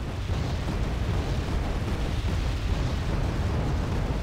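Napalm rocket artillery strike in Wargame Red Dragon, a loud, continuous roar of overlapping explosions and fiery rumble that holds steady throughout without pause.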